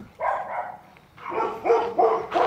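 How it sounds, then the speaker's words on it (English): A dog at a countryside property in France lets out a short bark, pauses, then fires off a rapid cluster of loud, nearby barks. "It's like land of the barking dog."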